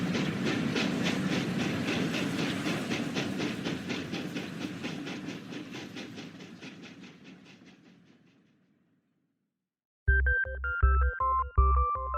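A steam train in a radio story chugs along its rails with steady clickety-clack beats, loud at first then slowly fading into the distance until silence, after which a brief burst of bright musical tones begins.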